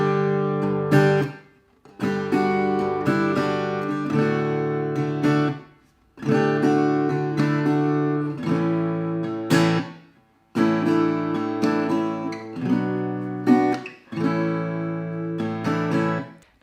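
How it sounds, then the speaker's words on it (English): Strummed guitar chords with melodic noodling and shifting voicings: bright ringing phrases in several bursts separated by short pauses, each a few seconds long, played solo and close. "now let me show you how to do the strumming part"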